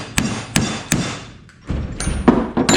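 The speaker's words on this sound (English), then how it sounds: "So I can use this little one to kind of like tap the edges out" Small hammer tapping out the edges of a hole in a 4th-gen Camaro exhaust header flange, several sharp metallic strikes spaced about every third of a second, then a short pause and a quicker cluster of taps, close and loud.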